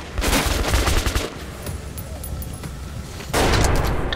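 Gunfire in the video game Metro: Last Light Redux, loud and sustained, with dense rapid bursts that ease briefly and then return hard at the end.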